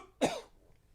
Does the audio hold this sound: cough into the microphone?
yes